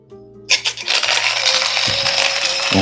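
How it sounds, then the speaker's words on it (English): A CF Wisdom rechargeable mini coffee grinder chews through a few beans, opening with sharp rattling cracks and then settling into a loud, continuous high whirring grind, with no talking. "let's throw in a few beans and see how it will grind them"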